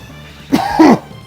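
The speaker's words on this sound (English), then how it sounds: "Sorry about that, I had to cough." A single short cough, close and fairly loud, in a quiet room with no talking.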